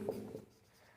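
Writing during a physics lecture on atomic structure, heard as a short, close scratching of strokes lasting under half a second, then quiet, with no speech.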